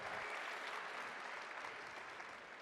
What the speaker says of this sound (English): Big round of applause once again, Storyteller Cosplay.